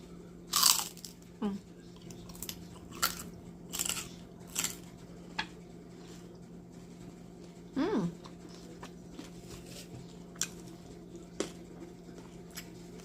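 Crunchy oven-roasted lechon belly roll, cooked about three hours, bitten and chewed close to the mic in a mukbang, giving scattered sharp crunches at an irregular pace with quiet pauses between bites.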